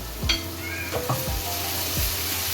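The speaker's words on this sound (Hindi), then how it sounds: "1 टीस्पून ज़ीरा, हाफ टीस्पून हल्दी और हाफ टेबल स्पून धनिया पाउडर ऐड करके इनको मिक्स कर लें।" Masala of cumin, turmeric and coriander powder frying in oil in a pan, a steady sizzle broken by a few scraping stirs and soft knocks of a spoon against the pan.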